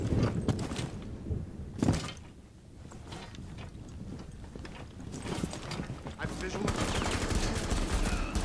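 Rapid hip-fire gunshots in a Rainbow Six Siege-style terrorist hunt, sharp cracks and mechanical clatter coming in irregular bursts over a busy game mix, with a loud cluster near the start and denser firing toward the end.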